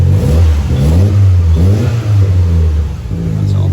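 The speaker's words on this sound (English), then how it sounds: "just a wee rev." A classic car engine idles and revs in a few short, throaty bursts at a track and show day, loud and close, pitch swelling and settling between blips.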